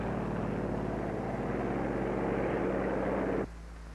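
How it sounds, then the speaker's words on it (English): Propeller aircraft engines drone steadily as control planes take off from an aircraft carrier deck, a loud continuous rumble that cuts off abruptly near the end, leaving a quieter hum. "Also taking off from the carrier are control planes that will guide the radio-controlled drone boats."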